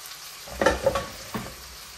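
Chopped bottle gourd hits hot spiced oil in a pan, giving a few sharp sizzling bursts and a later crackle over a quiet, steady frying hiss, close by with no voices.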